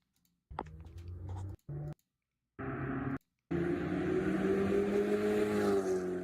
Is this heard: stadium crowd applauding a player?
no